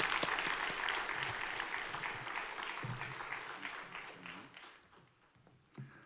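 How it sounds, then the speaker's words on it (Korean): A church congregation applauds warmly, the dense clapping strongest at the start and gradually thinning and fading away, heard at a moderate distance in a large room. "목사님을 보내주신 하나님께 영광의 박수 올려드리도록 하겠습니다"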